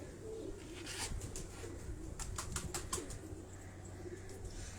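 Pigeons in a breeder's loft coo softly in the background, low repeated murmuring under a steady hiss, with a few faint higher chirps and clicks.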